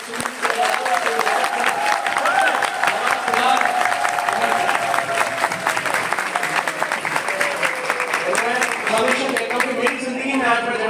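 A large audience applauds and cheers at a network-marketing business event, a dense, steady wash of clapping with some voices and shouts mixed in, holding loud for the whole stretch.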